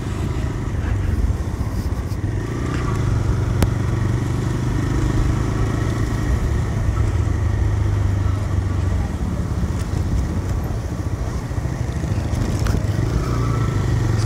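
TVS Raider 125 and Apache 160 4V motorcycles riding on a road at night, a continuous loud engine drone with road and wind rumble and occasional clatter, steady throughout with no talking.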